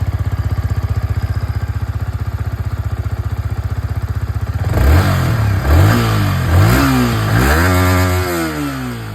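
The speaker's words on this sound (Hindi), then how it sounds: "एग्जॉस्ट साउंड भी मैं आप लोगों को सुना देता हूँ।" A motorcycle's exhaust idles with an even, rapid thump, then breaks into a series of sharp revs that rise and fall several times. The engine is close and loud, with no voices.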